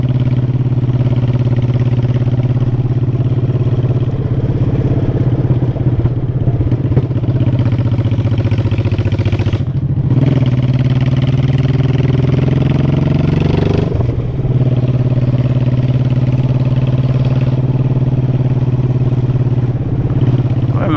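Motorcycle engine running in a canyon, a loud steady drone that rises briefly as it revs midway, then settles back into an even hum throughout.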